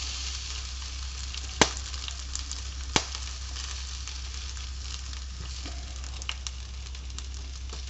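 Brussels sprouts fry in a pan with a steady, even sizzle, broken by two sharp clicks and a few faint knocks.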